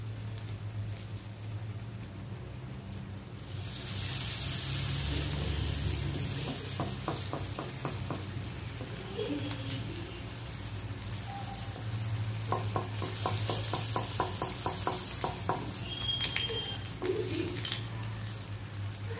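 Potato rolls fry in oil over a medium flame, giving a steady, close sizzle with scraping stir sounds and brief bursts of crackling spatter throughout.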